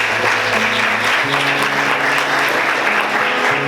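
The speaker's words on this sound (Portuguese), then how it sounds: "Vamos aplaudir o Senhor." A church congregation claps in steady, dense applause during a worship service. The sound is loud and close and lasts the whole few seconds without a break.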